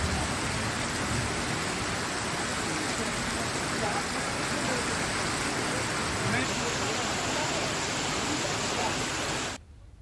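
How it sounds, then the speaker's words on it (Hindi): Heavy torrential rain pours down in Bhopal, a loud, steady broadband roar of downpour that holds evenly for about ten seconds before cutting off abruptly. "बीते 1 घंटे से मूसलाधार बारिश हो रही है"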